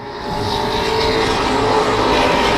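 Race cars roar around a speedway in a steady, loud, continuous engine drone that builds slightly, with no talk over it.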